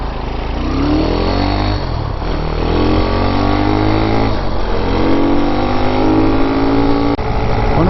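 Zongshen 5-speed 190cc engine swapped into a TaoTao Hellcat go-kart, running close and loud with a steady, buzzing single-cylinder drone whose pitch drifts up and down slightly.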